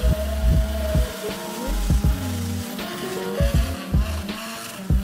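Mazda RX7 rotary engine at a night touge meet, revving in short sharp bursts with rising and falling pitch, fairly close and loud with no talk.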